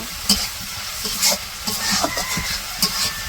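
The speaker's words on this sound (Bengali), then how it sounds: "এখন ভালো করে এটা ভাজি করে নিব।" Onions fry with ginger garlic paste in a pan in a village kitchen, loud close sizzling broken by several scraping stirs of a spatula.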